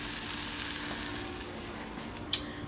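Fish sizzling and frying steadily in a hot pan, a continuous crackling hiss with a brief sharper pop near the end; no voices.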